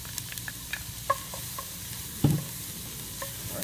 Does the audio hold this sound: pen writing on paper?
no